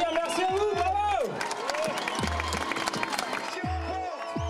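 Crowd applause and cheering at the Grand Raid ultra-trail finish line, a steady wash of clapping mixed with voices and someone talking over it throughout.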